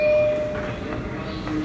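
New York subway uptown express train, R62/R142 type, at Times Square 42nd Street station, a rumbling, whirring pass with faint tonal whines, fairly loud and close in the station, lasting under two seconds.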